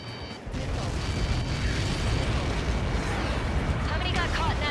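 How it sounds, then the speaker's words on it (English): A huge blast from a missile strike in the flight combat game Ace Combat 7 rolls in as a loud, sustained roaring rumble that holds steady for several seconds, with faint radio chatter underneath. "How many got caught in that explosion?"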